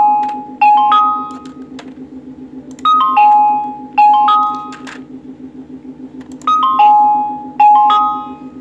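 A tiny dice-shaped mini speaker plays a repeating doorbell-like chime, bright two- and three-note ding-dong tones recurring about six times over a steady low buzzing tone, loud and close.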